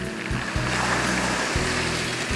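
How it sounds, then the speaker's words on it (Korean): Waves breaking on a pebble beach on Jeju, with a continuous roar of surf and a few deep thumps as swells land, loud and close, with no voices. "파도가 칠 때마다 들리는 자갈 소리가 일품이죠."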